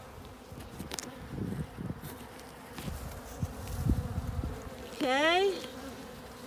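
Honey bees buzzing at a hive during installation of a virgin queen into a split, a steady close hum broken by a short rising whine, with one brief spoken word.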